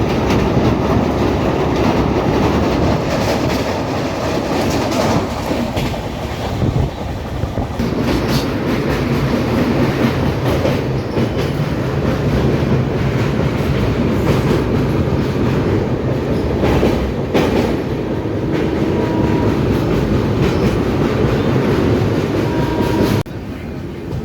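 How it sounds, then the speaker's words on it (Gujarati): A train runs from Ahmedabad toward Vadodara with a loud, steady rumble and rhythmic wheel clatter that rolls on without a break, and occasional brief squeals stand out from it. "અમારી ટ્રેન અમદાવાદ રેલવે સ્ટેશનેથી નીકળી ગઈ."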